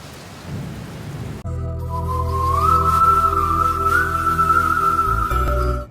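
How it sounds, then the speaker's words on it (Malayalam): Heavy rain pours down in a constant dense roar while thunder rumbles low underneath, and a thin whistling tone drifts slowly upward over the downpour. No one speaks. "ഇതൊരു വല്ലാത്ത മഴ തന്നെ"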